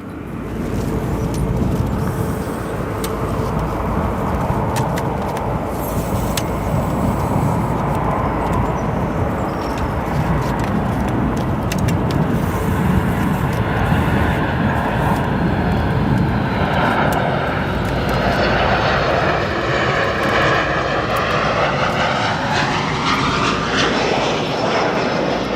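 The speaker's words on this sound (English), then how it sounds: "Next arrival coming up here, United 2290, this MAX 8 coming in from Phoenix," A United Boeing 737 MAX 8 airliner arriving from Phoenix lands at Chicago O'Hare with a loud, sustained jet engine roar. A rising and falling whine develops late as it passes, and no one speaks.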